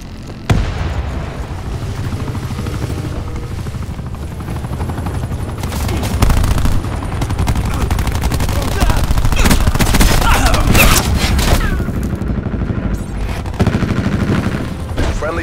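Attack helicopter firing in Call of Duty Black Ops 4, with sustained rapid gunfire bursts, booms and explosions over a steady rotor drone, loud and dense throughout, with brief game voice callouts mixed in.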